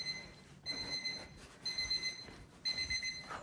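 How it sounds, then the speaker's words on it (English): A kitchen cleaning timer set for 15 minutes goes off with three bursts of high, shrill electronic beeping, each about a second long and separated by short pauses, heard in a quiet indoor room. "That is actually the first 15-minute timer going."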